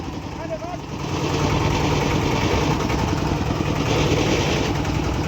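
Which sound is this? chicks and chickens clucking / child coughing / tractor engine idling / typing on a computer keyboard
tractor engine idling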